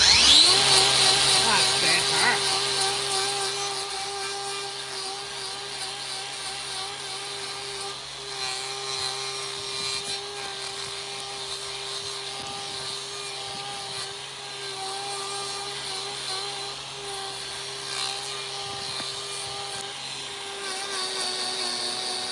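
A battery-powered grinder whines steadily as it trims blackened hoof horn, a loud, sustained high-pitched buzzing that spins up at the start and holds with slight wavering as it bites into the hoof.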